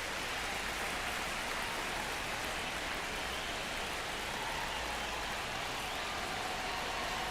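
Steady, dense rain pours over a ballpark in MLB The Show 25, a loud, unbroken hiss of drops on surfaces filling the whole stretch without pause or talk.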